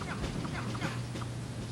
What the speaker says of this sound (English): Zombie chickens.